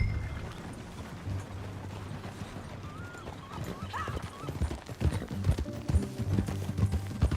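Horse hooves clip-clop in a steady trotting rhythm while a rider travels on horseback in Red Dead Redemption 2, with a brief whinny partway through and low game ambience beneath.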